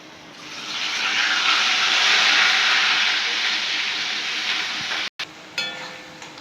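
Onions dropped into hot oil for a pangas fish curry, with no tempering spices, sizzling as a loud, steady broadband hiss that builds and holds before a brief cutoff and a few faint clinks near the end.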